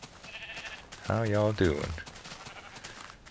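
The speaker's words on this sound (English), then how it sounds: "Oh yeah, I got me a little herd of sheep now." A Minecraft sheep lets out one clear bleat, followed by a second shorter one, while someone talks around the cries.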